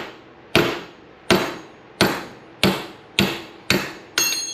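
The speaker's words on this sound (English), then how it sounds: "Just let the weight of the hammer do the job" Seven evenly spaced hammer blows tapping a steel part loose during an RB26 engine teardown, each a sharp ringing clank that fades before the next, with a brighter metallic ring on the last strike.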